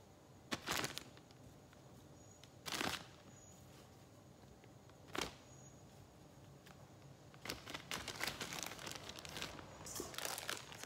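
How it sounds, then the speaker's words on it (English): Serrano peppers dropped into a Ziploc plastic bag, giving brief crinkling bursts of plastic at intervals, then a longer stretch of steady rustling and crackling up close, with no talking. "So all I'm doing is putting these in a Ziploc bag."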